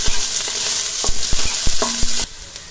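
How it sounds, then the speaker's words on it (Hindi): Green chili and onion frying in a pan for laal saag, with repeated sharp stirring clacks and scrapes over a steady sizzle, a brief tone near the end, then quieter frying. "अब इसमें हरी मिर्च डालेंगे जो हम काट कर रखते हैं, और प्याज डालेंगे।"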